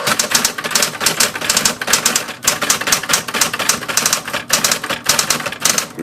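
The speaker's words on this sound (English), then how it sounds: "Machine has a hell of a return. Look at that return." A vintage Smith Corona manual typewriter works hard at close range, with rapid bursts of key strikes and clacks broken by short pauses and the rattle and slam of the carriage return.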